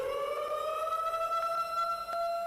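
Warning sirens near a nuclear power plant wail in a steady, sustained tone, holding a continuous rising pitch for the whole stretch with no voices.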